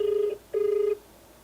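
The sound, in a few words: telephone ringing on an outgoing call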